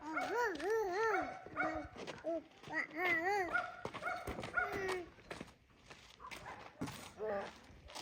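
A dog outdoors barks and yelps in quick, rising-and-falling bursts, loud and close, while people's voices carry in the background.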